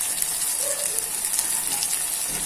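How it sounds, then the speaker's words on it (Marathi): Water poured into a mixer jar while making palak paneer, a steady gushing splash throughout, close and fairly loud. "थोडं पाणी टाकायचं मिक्सरच्या भांड्यात"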